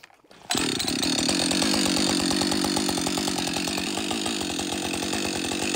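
A chainsaw whose chain teeth end up badly worn roars to life after a quiet moment and makes a cut in wood, a loud, steady engine snarl that stays close and continuous to the end.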